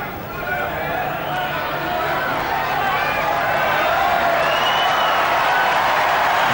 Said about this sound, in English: it's really given the crowd something to cheer about